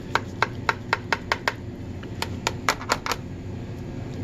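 A knife cuts down through a beef lasagna on a plate, giving a quick run of sharp, evenly spaced clicks and taps against the dish, then a few more scattered, slightly louder taps over a low background hum.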